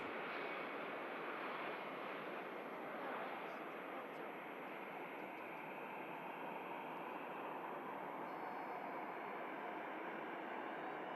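Roaring broadband rumble of an Embraer jet during its landing rollout at Manchester Airport, steady and fairly loud throughout with a faint high whine above.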